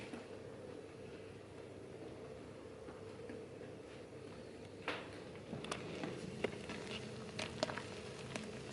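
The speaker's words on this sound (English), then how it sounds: "Is it raining? No, it's just this bubbling" Steady, soft bubbling and popping of IPA wort at a rolling boil in a boil kettle, a continuous patter with occasional sharper pops, fairly quiet and close.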